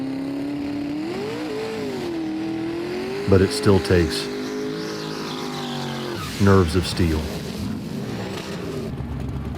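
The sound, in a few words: race truck accelerating down drag strip lane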